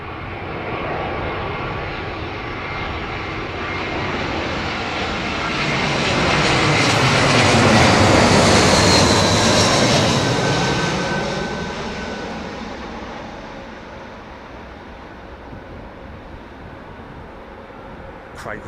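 A Korean Air Boeing 777 arrives at Heathrow Airport. Its jet engine roar swells steadily to a loud peak as it passes close overhead, then fades away.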